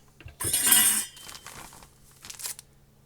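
Glass pickle jars handled while vacuum sealing powdered gravy mix: a bright clinking, rustling clatter up close, then softer taps and a couple of small glassy knocks, with no talking.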